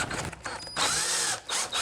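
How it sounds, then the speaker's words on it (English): A power drill drives 1 5/8 inch exterior screws up through the bottom into cedar side pieces of a bird feeder, with two loud whirring bursts separated by short pauses. "then attach the side pieces with wood glue and 1 5/8 inch exterior screws from the bottom"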